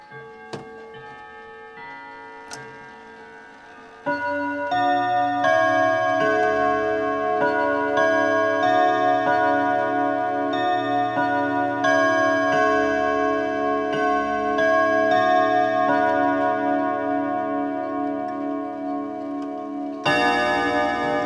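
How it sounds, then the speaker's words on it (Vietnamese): An antique Kenizer clock chimes on a set of eight steel rods, a few faint ticks first, then a loud sustained run of ringing tones that carries on for most of the clip, with a fresh strike near the end. "Đây là tiếng chuông của chiếc đồng hồ Kenizer trên cái bộ cung thép, gồm 8 thanh cung thép."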